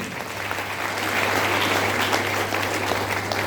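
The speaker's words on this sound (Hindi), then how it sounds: "प्रशांत का जो अभिभाषण हुआ उसका तालियों से स्वागत करें" Audience at a teacher training college gathering in Bhagalpur applauding after a speech, dense steady clapping from many hands that swells slightly mid-way, with a low electrical hum beneath.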